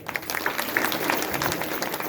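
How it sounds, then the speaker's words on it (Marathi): Audience clapping at a kirtan, a brief, dense burst of applause from a seated crowd, steady throughout with no talking. "त्या वऱ्हाड्यांसाठी तुम्ही टाळ्या वाजवल्या पाहिजे"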